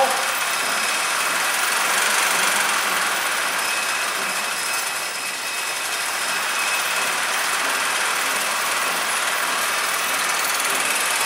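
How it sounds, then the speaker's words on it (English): A stainless steel glazing conveyor runs with its pump switched on, giving a steady, loud mechanical hum and hiss that stays constant throughout with no talking. "We'll hit start again. We'll turn the pump on."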